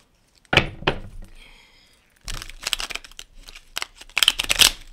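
Cards are shuffled up close in quick, crisp bursts of riffling and snapping, separated by short pauses.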